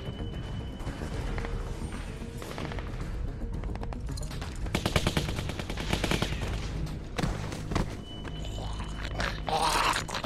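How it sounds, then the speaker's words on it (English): Rapid machine gun fire in The Walking Dead Season 2 video game, a dense chattering burst at mid-distance over a steady bed of ambient game noise, with scattered bangs before and after. "Machine gun."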